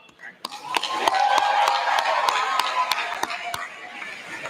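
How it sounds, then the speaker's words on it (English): Graduation ceremony audience at a high school applauding, a steady wash of many hands clapping with a few sharp individual claps standing out, moderately loud and continuous. "How about one more big round of applause?"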